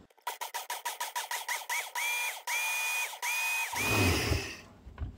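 A small electric grinder pulses dehydrated garlic into powder: a rapid series of short motor bursts quickens into longer sustained whirs, then ends in a rougher grinding roar, close and loud with no talk.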